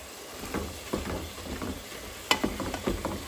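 Ground beef seasoned with garlic powder browns in a pan with a close, steady sizzle, broken by irregular scraping and stirring clatters and a few sharper knocks.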